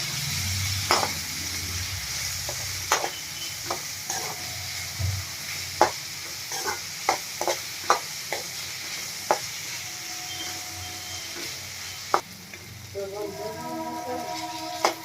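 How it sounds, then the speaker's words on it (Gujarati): Two finely chopped tomatoes cooking down in a pan for pasta, with a soft steady sizzle and many separate clicks and scrapes of a spoon mixing them, close but fairly quiet, with some faint rattling near the end. "તો તો આપણે હવે ટમેટા એકદમ સોફ્ટ થાય ત્યાં સુધી આપણે આવી રીતના મિક્સ કરતા જઈશું ને ટમેટાને એકદમ પકાવી લેવાના છે"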